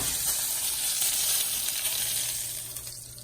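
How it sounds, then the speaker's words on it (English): Steak sears in a hot pan, giving a steady bright sizzle that holds close and loud before easing off slightly toward the end, with no talking. "So we're just gonna sear that."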